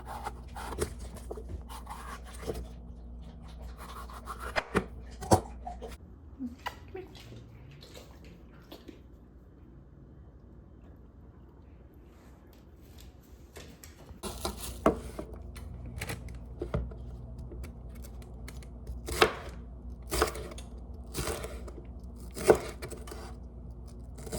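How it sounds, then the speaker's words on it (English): Kitchen knife chopping onion, bell pepper and sausage on a cutting board, with irregular quiet taps and scrapes that come in clusters, some louder strikes near the end and pauses between. "Gonna make onion, bell pepper, and sausage. Not caramelized onion, just regular cooked onion. So let's get to chopping."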